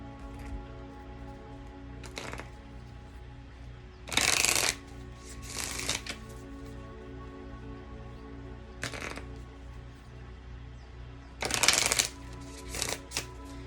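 Tarot or oracle cards being shuffled by hand in several distinct bursts, close and crisp, separated by quiet pauses with a faint low hum underneath.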